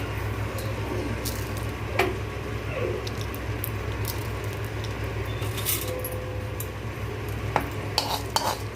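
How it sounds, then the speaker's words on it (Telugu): Fenugreek seeds dry roasting in a pan, a faint constant rattle and scrape with intermittent clinks of a spoon against metal, close and quiet throughout. "ముందుగా ప్యాన్ పెట్టుకొని అందులో ఫస్ట్ మనం మెంతులు వేసుకొని వేయించుకుందాం"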